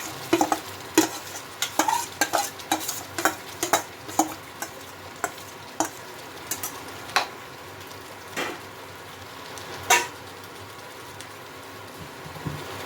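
Chicken frying in a pan for chicken chaap as remaining spices are stirred in, with irregular scraping stir strokes and sharp ticks over a soft continuous sizzle, close and fairly loud.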